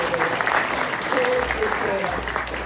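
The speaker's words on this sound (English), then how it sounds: "Let's start by giving Terry a huge round of applause." An audience gathered in a venue space gives a warm round of applause for a guest, steady clapping with a voice talking over it.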